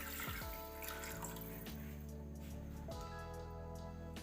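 Water is poured into a cooking pot of beef trotters for paya, a steady pour running continuously for a few seconds.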